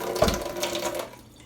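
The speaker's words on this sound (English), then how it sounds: "I chuck in some water" Water from a tap or jug poured into a bowl while mixing sourdough, a steady close splashing trickle lasting about a second before fading out.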